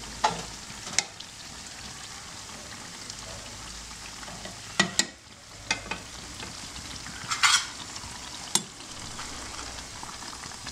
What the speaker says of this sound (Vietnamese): Gừng tươi xào với lại dầu vừng trộn vào với tekka, trộn vào với chảo nguyên liệu làm tekka.